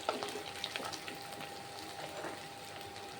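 Onions fry in a pan with a steady, close sizzle and soft crackling pops, continuing evenly without a break.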